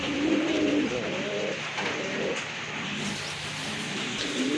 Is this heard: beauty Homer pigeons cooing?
yes